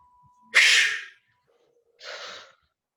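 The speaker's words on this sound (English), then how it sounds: "मुंह से सांस छोड़ना है, प्रेशर से छोड़ना है." Two forceful exhalations pushed out through the mouth under pressure during a breathing exercise, the first a loud, sharp rush, the second softer, separated by a brief pause in a quiet room.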